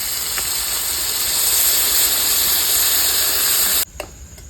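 Loud, steady hiss and sizzle of water hitting a pan of hot oil with browned onions and whole spices like cardamom, clove, cinnamon and bay leaf, roaring for several seconds before cutting off abruptly.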